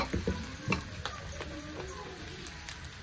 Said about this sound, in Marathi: तळून घ्यायचं तेलामध्ये चांगलं